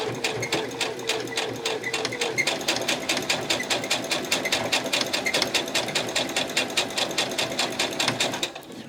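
A sewing machine stitches through journal pages, running in a steady rapid mechanical rhythm close to the microphone, continuous for several seconds before stopping near the end, with no talking.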